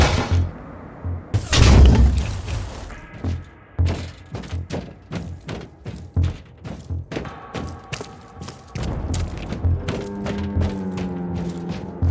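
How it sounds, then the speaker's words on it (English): Weapon reloading in the video game Warhammer 40000: Inquisitor – Martyr (2018), with the heavy cannon on the defender class. A loud thud is followed by a rapid series of clicking, ratcheting mechanical clacks and metallic rattles, close and alone with no talk. "Reloading."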